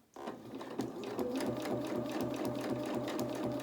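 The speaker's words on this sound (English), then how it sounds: "the sewing machine can only sew in a straight line" A sewing machine stitches fabric in a straight line, its needle hammering in a steady fast rhythm close up, loud and alone once it starts.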